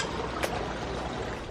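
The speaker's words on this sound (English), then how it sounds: "I mean, the sound of this waterfall." Steady broadband rush of falling water from a waterfall in a European-style courtyard, continuous and fairly near, with no voices over it.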